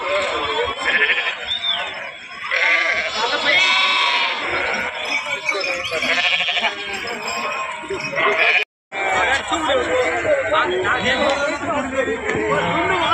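Several sheep bleat repeatedly, loud and close, amid busy crowd chatter and people talking in a noisy open-air livestock market in Gudur.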